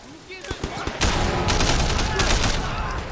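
Video game gunfire in Sleeping Dogs, a burst of rapid shots and rattling automatic fire mixed with game effects, fairly loud and dense, with no clear talk over it.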